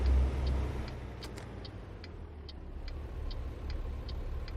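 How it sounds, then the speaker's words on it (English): A very quiet truck engine in American Truck Simulator holds a low, steady hum while a faint, regular ticking repeats over it, with no voices. "It's a very quiet motor."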